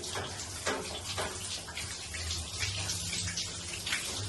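Water pours and splashes steadily close by over a dog being bathed, a continuous gushing stream with small bursts of splashing, no voices.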